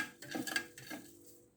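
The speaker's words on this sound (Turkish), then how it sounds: "Bunu bu şekilde karıştırıyoruz" A spoon stirs pickle brine of water, sugar, salt and citric acid in a container, making a few quick, quiet clinks and scrapes before fading into silence.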